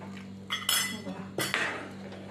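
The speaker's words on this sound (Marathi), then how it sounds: "थोडं थोडं ओतून चमच्याने हलवून घ्यायचं" A metal spoon clinks and scrapes against a pan of cabbage manchurian gravy in a few short bursts, with a steady low hum underneath.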